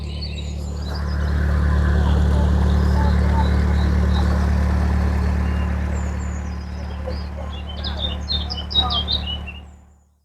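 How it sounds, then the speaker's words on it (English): Narrowboat chugging past on a canal at Kinver, its low steady engine drone swelling then fading, with birds chirping and people talking nearby. "Nice narrowboat that is."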